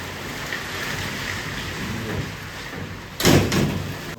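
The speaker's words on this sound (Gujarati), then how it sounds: "બહાર એટલો વરસાદ ચાલુ થઈ ગયો છે" Heavy rain pours outside during a downpour of about five inches, a steady broadband wash that holds at an even level, with a louder, fuller burst near the end.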